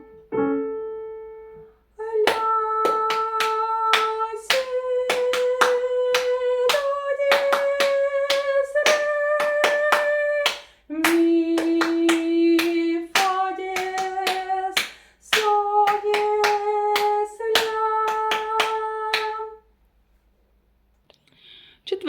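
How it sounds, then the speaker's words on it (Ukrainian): Sharp hand claps keep a steady, even rhythm while a voice sings a series of held notes in a solfège lesson, stopping briefly between phrases. "А тепер співаємо і плескаємо."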